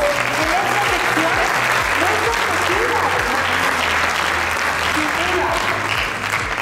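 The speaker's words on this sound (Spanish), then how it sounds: "Aplausos" Studio audience applauding continuously and loudly for several seconds at an awards-style channel show, with a steady dense wash of clapping over low background music.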